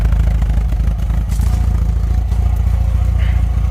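A restored MGB engine idles steadily after 28 years off the road, with a loud, continuous low mechanical rumble and a faint clatter throughout.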